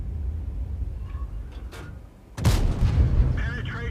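Löwe heavy tank in World of Tanks firing a premium round, a single loud cannon boom about two and a half seconds in, preceded by quieter distant shots and followed by rumbling echo, with talk throughout.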